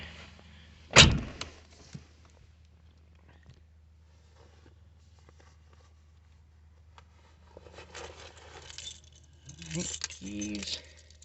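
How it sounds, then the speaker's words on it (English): Keys jangling sharply once, close up, by a 1988 Ford LTD Crown Victoria, followed by faint handling sounds and brief talk near the end. "Keys."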